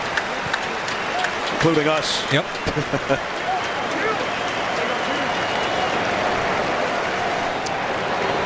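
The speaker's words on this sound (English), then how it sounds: "You can all clap." A stadium crowd at an NFL game between the Cardinals and Rams claps as an injured player gets up, a dense, continuous roar of applause with a commentator talking briefly over it.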